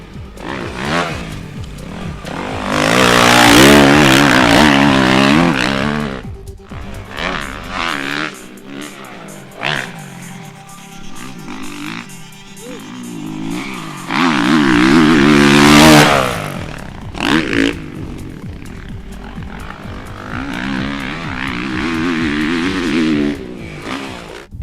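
A 2012 Suzuki RM-Z450 fuel-injected 450 motocross bike is ridden hard, its engine revving loudly up and down through repeated surges and gear changes, close and continuous with no talk.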